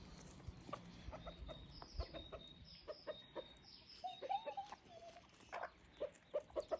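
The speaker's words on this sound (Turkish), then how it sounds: "bakayım tavuklara." Chickens clucking in short, scattered bursts over a low background murmur, fairly close by, with no talking.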